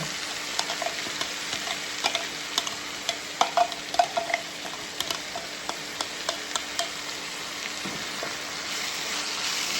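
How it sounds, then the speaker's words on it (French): Chicken fajita mixture sizzles steadily in a pan while a utensil stirs it, giving repeated light scrapes and taps over the constant frying hiss. "Donc là, on vient bien mélanger"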